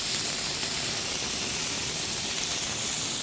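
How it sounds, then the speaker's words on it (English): Shepherd's pie filling of potatoes and vegetables sizzles in a pan with a steady, even hiss, close and continuous, with no talking. "There's a lot of vegetable, a lot of potato in there, and you can hear it sizzling."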